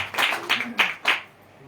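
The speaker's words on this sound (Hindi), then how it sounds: "जोरदार तालियां दो।" A church congregation at a Hindi prayer sermon clapping loudly in a few quick, heavy bursts, then breaking off into quiet.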